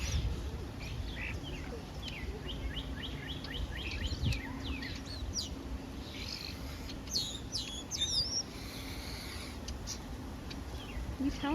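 Birds chirp and tweet repeatedly at the Omaha Henry Doorly Zoo, a busy mix of short calls over steady low background noise, with scattered bursts growing denser toward the end.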